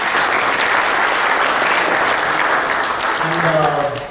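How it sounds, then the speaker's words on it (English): A conference audience gives loud, sustained applause after a presentation by a stock exchange chief executive, a dense continuous roar of clapping, with a voice briefly rising near the end. "Can we expect a round of applause to Ashish, please?"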